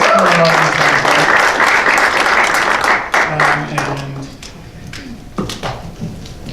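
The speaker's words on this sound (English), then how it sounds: "Round of applause for" Club showcase audience applauding a volunteer called up on stage, a full burst of many hands that thins and fades over several seconds, with voices speaking through it.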